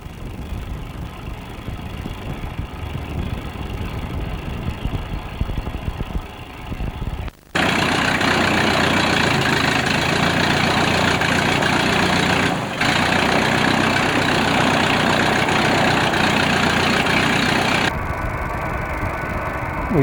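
A vintage aircraft engine, started by hand-swinging the propeller, idles with a low rumble and then roars up to a loud, steady run for about ten seconds before easing back to a quieter idle.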